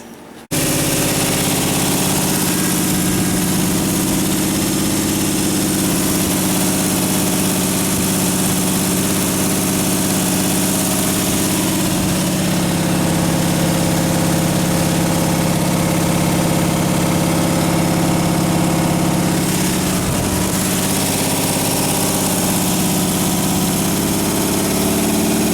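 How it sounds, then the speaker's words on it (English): A 327 V8 engine runs steadily at idle, a loud, continuous close-up rumble with a constant throbbing pulse that holds for the whole stretch, no talk over it. "we can listen to a 327 run here for a little while"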